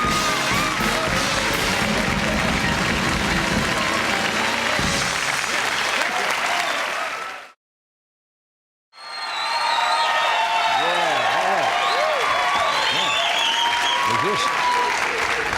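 Studio audience on a Friday night TV talk show applauding and cheering loudly, a dense wall of clapping that cuts out abruptly to silence for a moment, then resumes at full strength with whoops over it.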